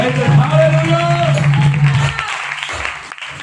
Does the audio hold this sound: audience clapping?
yes